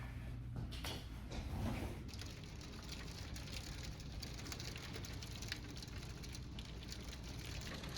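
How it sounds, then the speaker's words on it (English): Hail begins falling outside a Marriott Residence Inn, heard from indoors as a steady, faint patter and hiss with a few louder knocks early on. "Wow, I got here just as it started to hail,"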